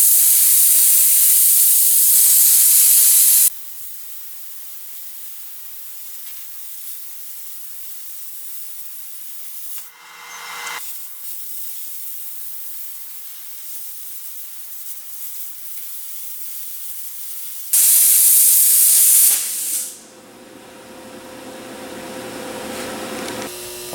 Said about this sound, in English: take the plasma cutter and cut the corners or cut the edges into blades with this